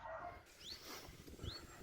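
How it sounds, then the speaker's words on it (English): Distant, muffled dog cries and whimpers from dogs kept at an animal testing facility, two faint rising yelps standing out over a steady low background rumble. "you can hear the muffled cries of dogs in the distance"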